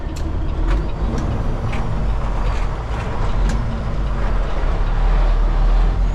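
A Peterbilt 389 truck rolls in neutral through a turn, a steady low rumble and road noise with faint high ticks and rattles, loud and close, no voices.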